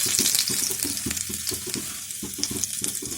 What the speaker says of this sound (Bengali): এতে একটু পাঁচফোড়ন দেবো আর একটু রসুন ফোড়ন দেবো